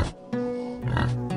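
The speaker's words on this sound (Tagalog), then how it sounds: "Alagaan mo yung mga baboy ko dito." Farm pigs grunt and oink in a close, steady series of throaty calls with no talk over them.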